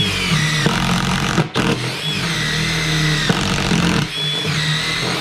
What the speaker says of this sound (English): and I'm going to drill a hole.